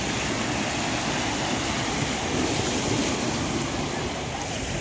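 Waves breaking and washing on Catalan Bay beach in Gibraltar, a continuous broad surf roar mixed with gusting wind buffeting the microphone, loud and steady throughout.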